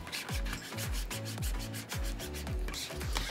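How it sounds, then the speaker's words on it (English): Transfer tape being rubbed firmly over a cut vinyl stencil for multicolor screen printing, a steady scraping rub in repeated strokes, close and loud with no talk. "We're gonna rub from the side while the transfer tape is there, that way we can pick up all of our pieces."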